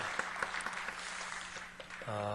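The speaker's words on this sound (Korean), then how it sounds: "박수하겠습니다" Church congregation claps together to welcome newcomers, a dense mix of hand claps across the room that breaks off into a steady tone at the end.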